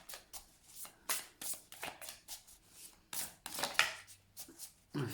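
A deck of tarot cards shuffled by hand, with a quick run of about a dozen rustling riffles and slaps in a close, quiet room, and no talking.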